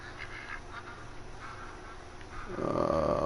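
Ducks quack a few times in a short burst within a Call of the Wild hunting game, under steady ambient wilderness noise. A louder, rougher rasp swells in at the end.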